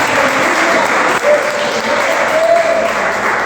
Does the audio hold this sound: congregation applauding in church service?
yes